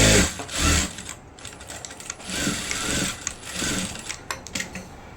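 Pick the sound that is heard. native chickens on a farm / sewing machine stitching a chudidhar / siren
sewing machine stitching a chudidhar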